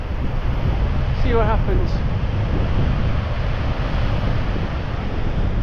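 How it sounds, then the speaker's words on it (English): Strong coastal wind buffets the microphone on the shore at Rhosneigr, Anglesey, while fishing, a loud, constant roaring rush that fills the whole clip, with someone speaking briefly under it. "the wind certainly changed direction now. It's right in our face."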